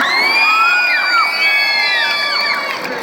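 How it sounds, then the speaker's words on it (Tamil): A college annual-day crowd of Vijay fans erupts in loud, high-pitched shouting and whooping cheers that stay strong for about three seconds. "இளைய தளபதி விஜய் ரசிகர்கள் இருக்க ஒரு கைத்தட்டல் நீங்க பார்க்கலாம்."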